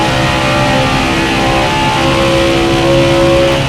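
A NASCAR Cup race car engine in the NASCAR Heat 5 video game roars steadily at high speed around Pocono, loud and continuous with sustained tonal whine and no talk.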